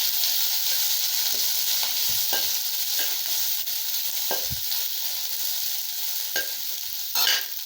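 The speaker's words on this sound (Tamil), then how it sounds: "வெங்காயம் போட்டு நல்லா வணக்கலாங்க." Onions sautéing in hot oil in a pan for onion sambar. A loud, dense, continuous sizzle fills the clip, broken by occasional scrapes and taps of a spatula stirring, close up.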